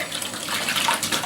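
Warm water runs from a tap to rinse soap out of hand-dyed yarn, a steady close splashing gush that continues evenly throughout the short moment.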